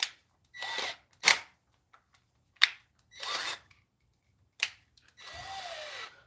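A power screwdriver drives screws in several short whirring bursts separated by pauses, close by and fairly loud, ending with a longer run that rises in pitch; no one talks.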